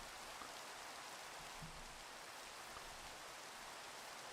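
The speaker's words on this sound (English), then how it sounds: "I really should just turn off the rain effects." Steady rain effect in Minecraft Pixelmon Generations, a dense, even hiss of falling rain that holds at a constant moderate level throughout with no voices.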